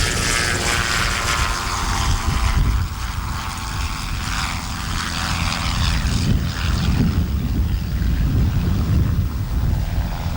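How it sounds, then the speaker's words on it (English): A small Robinson helicopter flies past outdoors at a New Zealand agricultural pilots' reunion, its rotor and engine giving a loud, steady, buffeting drone mixed with wind noise for the whole stretch. "Neat little chopper, isn't it?"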